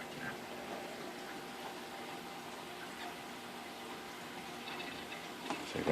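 Water rushing through plumbing into a BRS reactor as it fills and flushes, a steady continuous hiss that holds level for several seconds and swells slightly toward the end.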